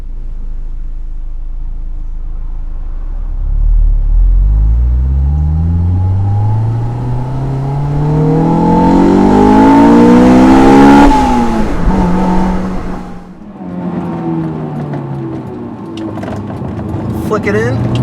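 A Honda S2000 AP1 engine revs hard toward 9,000 RPM, pitch climbing steadily through the gears in loud close acceleration, then dropping off on a shift before pulling again, with someone talking over it.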